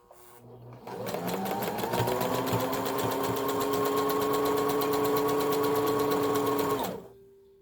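A sewing machine runs a continuous zigzag stitch along a fabric edge while sewing a bandana, starting after a short pause and humming steadily with rapid needle clatter for about six seconds before stopping.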